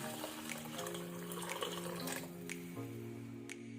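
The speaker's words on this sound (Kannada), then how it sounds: "ಅದರ ಜೊತೆನೆ ಒಂದು ಅರ್ಧ ಲೀಟರ್ನಷ್ಟು ನೀರು ಹಾಕೊಳ್ಳೋಣ" About half a litre of water is poured into a pot of tamarind juice for pepper rasam, a soft, continuous splashing trickle under a steady tonal background, with no speech.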